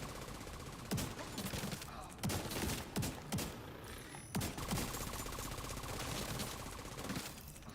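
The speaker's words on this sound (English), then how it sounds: "It's a shotgun." Shotgun blasts from The Division 2 video game come as sharp, loud reports at irregular intervals over a continuous gameplay background, with a few clustered shots.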